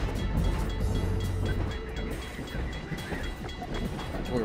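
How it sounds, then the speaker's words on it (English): A train rumbles past in the video game Half-Life 2, with heavy low rumbling at first, then rattling clatter and hiss as it continues by at moderate loudness. "Uh-oh, train is coming."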